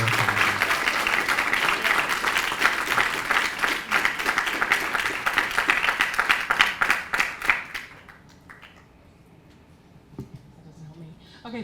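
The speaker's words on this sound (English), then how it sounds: "the clapping comes over into the court reporter's microphone" An audience at a public meeting on an Amazon data center campus in Frederick, Maryland, claps loudly and steadily for several seconds before the applause thins out and fades to quiet room tone.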